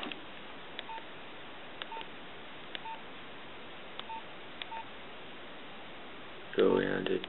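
A Nokia 2855i phone's speaker playing test tones, short evenly spaced electronic beeps repeating about once a second over a steady hiss, ending with a louder burst of tone near the end.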